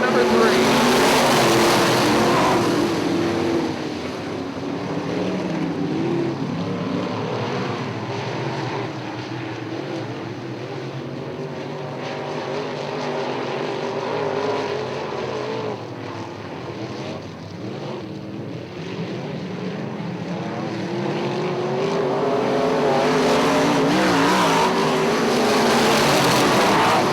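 IMCA modified race cars roar off together at the start of a heat race at Ionia Raceway Park, a loud, dense engine drone swelling near and far as the pack accelerates, steady throughout with a rise at the end.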